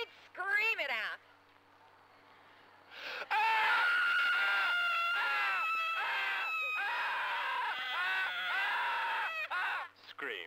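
Several people scream loudly and continuously in a shrill, overlapping chorus, preceded by a shorter burst of screaming, a brief lull, then a long sustained wail that cuts off near the end; from a 1978 laundry spray commercial.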